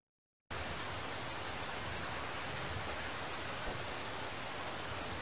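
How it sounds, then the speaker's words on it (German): Steady rain in the video game Zero Sievert: a dense, even hiss that fills the whole clip after a brief silent start, with no voices or other sounds rising above it. "mal normaler Regen und kein Acid-Regen"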